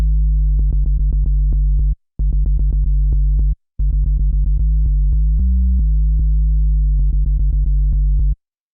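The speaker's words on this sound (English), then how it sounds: "I always typically will like supplement that with something like just a sine wave" A deep, pure sine-wave sub bass made in the Serum synthesizer plays loudly in sustained notes with short gaps, marked by rhythmic clicks and a slight pitch shift midway.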